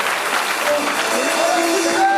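Applause from an audience at a Rwandan gathering, a steady, loud wash of many hands clapping that fills the whole moment, with voices talking faintly underneath.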